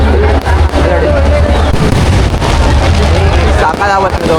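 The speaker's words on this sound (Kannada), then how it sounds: "ಇನ್ನೂ ಪಟಾಕಿ ಹೊಡಿತಾನೆ ಅವ್ರೆ." Firecrackers burst at the Ramanagara Karaga festival in a muddy, crowded fairground, with rapid pops and booms running under loud crowd noise and people talking nearby.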